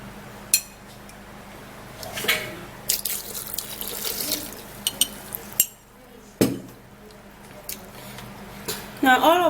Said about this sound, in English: I'm going to be putting in milk.